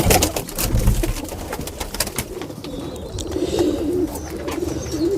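Pigeons coo steadily inside their loft, a soft continuous rolling murmur of several birds close by, with occasional wing flutters and scuffs.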